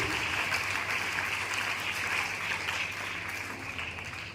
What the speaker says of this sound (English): let's give a huge round of applause to our newly made council committee